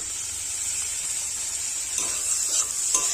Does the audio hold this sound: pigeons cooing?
no